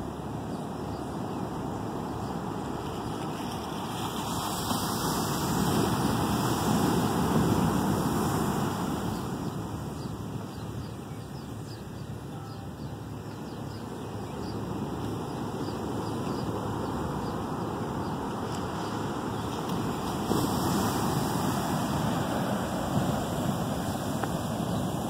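Storm surf at Pokai Bay roars as a continuous broad wash of breaking waves, swelling and easing in slow surges, with wind buffeting the microphone and no one talking.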